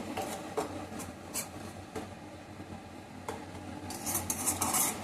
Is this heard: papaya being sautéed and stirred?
yes